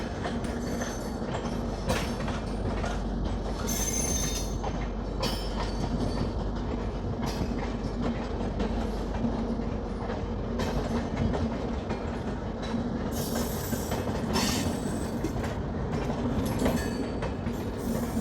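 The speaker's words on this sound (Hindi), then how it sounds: "हम लोगों के सामने से जो गुजर रही है ये दुरंतो एक्सप्रेस 12259।" Duronto Express 12259, running from Sealdah to Bikaner, passes near Gaya Junction with a continuous rumble and rhythmic clickety-clack of wheels on rails, steady and fairly close for the whole stretch.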